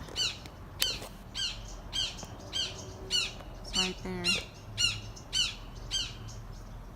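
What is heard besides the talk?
hawk calling from a tree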